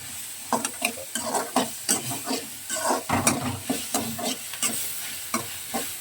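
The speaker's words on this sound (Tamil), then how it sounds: "வெங்காயம் தக்காளி மிளகாய் பூண்டு ஜீரகம் மேலே எல்லாம் போட்டு நல்லா இது பண்ணுற பாருங்க வறுக்கிற பாருங்க" Onion, tomato, chili, garlic and cumin frying together in a pan, stirred briskly with a spoon: close, rhythmic scraping strokes over a bright, constant sizzle, with no talking.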